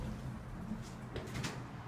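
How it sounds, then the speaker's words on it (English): Westinghouse hydraulic parking elevator doors in a Huntington Beach, CA parking structure slide shut with a few soft rumbling clunks over a steady low machinery hum, heard close and with no talking. "Doors closing"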